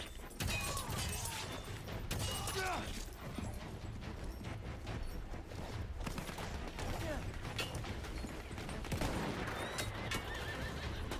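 Cavalry horses whinny and neigh over galloping hooves amid a busy Battlefield 1 battle, with scattered gunfire and clanking mechanisms throughout, loud and continuous.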